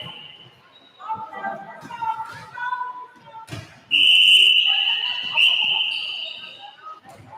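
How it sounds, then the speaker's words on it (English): Sharp, loud referee whistle blasts in a netball game, a long shrill one near the middle following shorter earlier toots, with players and commentators talking in between. "A lot of whistle in this game."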